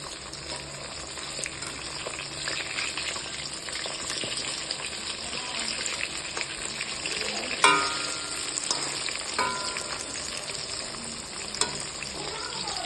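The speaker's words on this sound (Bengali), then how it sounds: "মাছের একদিক ভাজা হয়ে গেছে এবং অপর দিকটিও আমি ভেজে নেব।" Pomfret fish fries in oil over a low gas flame with a continuous, even sizzle and occasional small pops and crackles.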